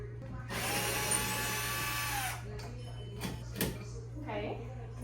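Power drill whirring steadily for about two seconds while backing screws out of kitchen cabinetry during a 1940s kitchen teardown, followed by a few short clunks and knocks and a constant low hum underneath.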